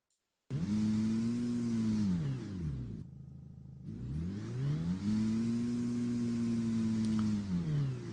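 Looped car engine RPM recordings crossfade in an Unreal Engine 5 sound design setup, a loud tonal engine whine sweeping up and down in pitch, cutting out briefly before revving again.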